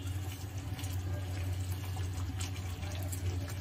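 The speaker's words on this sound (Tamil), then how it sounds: "இப்போ நம்ம மொத்தமாவே இந்த தண்ணி ஆட் பண்ணிடலாம்." Water is poured steadily into a pan on the stove while kesari bath is being cooked, a continuous close splashing pour with a low hum behind it and no break from start to finish.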